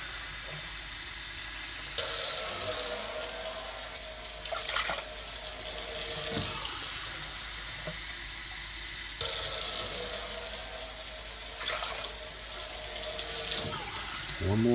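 Tap water runs steadily into a pot at a kitchen sink, a continuous splashing hiss that shifts in tone as the flow is adjusted, with faint clinks between pours.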